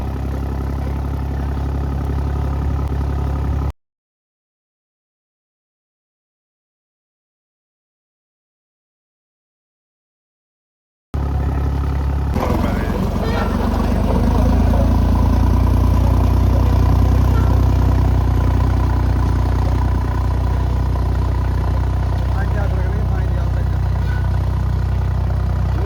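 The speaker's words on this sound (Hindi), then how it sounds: "देखो भाई ट्रैक्टर जो है इतना ज़्यादा लोड फ्री चल रहा है" An Eicher tractor engine runs steadily while planting potatoes in a field, a close, continuous low drone interrupted by a stretch of silence before it returns slightly louder.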